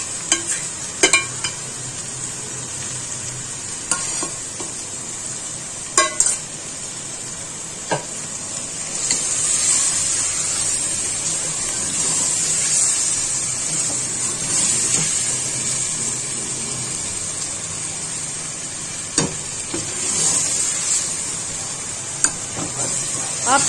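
Marinated chicken hits softened tomatoes in a pan for a pea and chicken curry, sizzling steadily for over twenty seconds with intermittent clanks and stirring scrapes.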